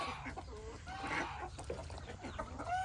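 A chicken in a bird pen clucks softly and nearby in a short run of murmured calls, with faint background noise and no talk.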